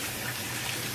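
Water squirted from an empty ketchup bottle to rinse a Maltese puppy, a steady close hissing gush with no pauses.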